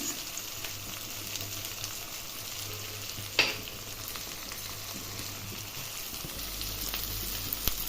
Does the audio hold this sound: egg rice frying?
yes